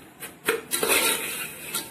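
Seviyan (vermicelli) frying in a pan, heard mostly as close metal utensil clinks and scrapes against the pan over a soft, steady sizzling hiss, with a few distinct knocks early on.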